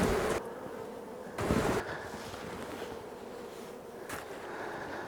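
A quiet, continuous hum of honey bees around a hive treated with formic acid, broken by a few short bursts of louder rushing noise.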